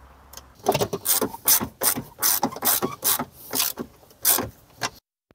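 Ratchet wrench working three 10 mm nuts on a Ford Probe / Mazda MX-6 during an air intake hose repair, a series of rapid clicking bursts close up, each stroke distinct and fairly loud, with no talk.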